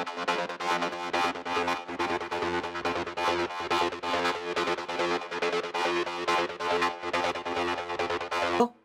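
Two acid synth lines layered together for a trance track run continuously, in dense, rapid, resonant sixteenth-note patterns that stay loud and busy before stopping abruptly at the end.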